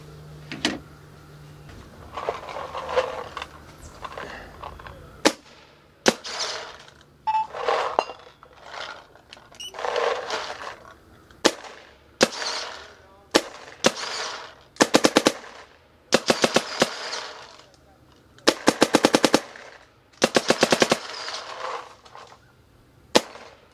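Dye paintball markers, the M3 Plus and the DSR, firing strings of sharp rapid shots in bursts and single pops, loud and close, with mechanical clicks between volleys and no speech.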